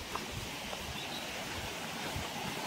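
Steady broadband rush of the Hatia Jhar waterfall near Jajpur, Odisha, a continuous roar of falling water with some wind noise, unbroken from start to end.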